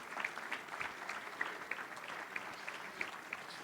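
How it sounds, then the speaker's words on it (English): Moderate applause from an audience at a high school football media day honoring a junior player, a soft, even patter of many hands with a few sharper claps standing out, fairly distant and without talking. "let's give him a round of applause"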